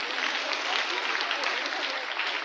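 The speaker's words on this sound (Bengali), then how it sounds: "একটি জোরে করতালি হবে।" Loud, steady applause from an audience at a ceremony honouring the slogan and poster contest winners, dense clapping continuing without a break.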